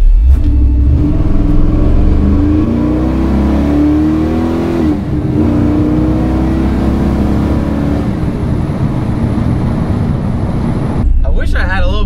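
Chevy squarebody street truck engine revving hard at full throttle, a loud, rising roar that climbs in pitch for several seconds, then drops off and settles into a steady rumble near the end.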